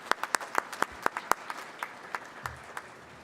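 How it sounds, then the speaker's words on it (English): Sparse, scattered clapping at a teacher of the year ceremony: a few distinct claps spaced irregularly over a soft background, fairly quiet and thinning out toward the end. "Let's give Ashley a round of applause."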